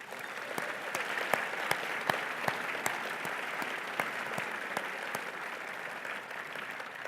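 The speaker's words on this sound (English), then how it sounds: "Please give yourself a big round of applause." At a service recognition luncheon, the audience gives a sustained round of applause, a fairly quiet and even patter of many hands with a few sharper individual claps standing out.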